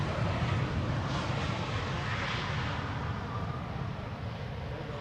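A jet airliner lands at Amsterdam Schiphol Airport on a sunny day, its engine roar broad and rumbling from a distance, slowly fading over several seconds with no speech.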